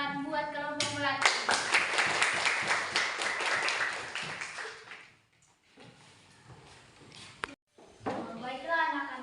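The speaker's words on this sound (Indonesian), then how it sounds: "beri tepuk tangan buat kelompok melati" Classroom applause for a student group, a burst of quick hand claps from children lasting a few seconds, then fading into quiet with children's voices and a teacher speaking before and after.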